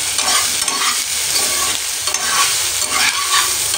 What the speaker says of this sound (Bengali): আর এই যে আমি ক্যাপসিকাম আর আলুরই ভাজছি